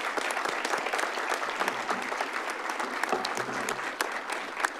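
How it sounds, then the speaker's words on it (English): A city council meeting audience gives Chad a sustained round of applause, a dense, even patter of many hands clapping at a moderate distance, with a few sharper claps standing out. "Let's give Chad a round of applause."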